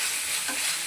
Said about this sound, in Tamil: இஞ்சி பூண்டு போட்டு நல்லா வதக்குறோம்.